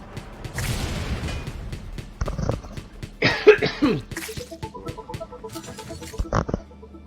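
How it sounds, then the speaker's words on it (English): A person coughs several times in short bursts, close and fairly loud, with quiet game sounds in between and no talking. "I say I'm fine and then cough."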